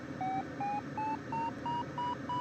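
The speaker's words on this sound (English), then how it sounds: "I'm getting beeps" Variometer in the Condor 3 soaring simulator during a ridge-flying glider race, giving a steady train of seven short electronic beeps whose pitch creeps slightly upward, evenly spaced over a faint background hum.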